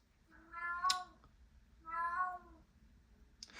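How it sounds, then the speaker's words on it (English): A house cat meows twice, drawn-out and fairly close, with a quiet pause between the calls and no talking. "she does something bad and then she meows about it"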